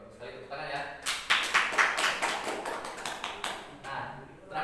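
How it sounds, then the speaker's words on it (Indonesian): Classroom applause from a group of students, a burst of rapid overlapping claps that swells for about three seconds and then tapers off, with a voice heard faintly underneath. "Oke, bagus sekali, tepuk tangan ya."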